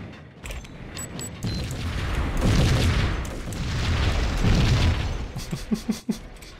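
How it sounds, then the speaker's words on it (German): A chain of explosions in the video game Max Payne: loud rolling booms build and swell over several seconds, then a quick series of sharp pops and bursts near the end. "Explosionsfolge. Definitiv."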